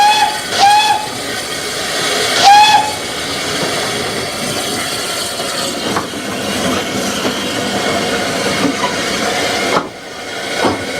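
A Belgian-built 0-6-0 steam tank locomotive heads a mixed train on decaying Spanish narrow-gauge mining track. Two short whistle blasts sound early on, over a steady hiss and rumble of the engine working along the line.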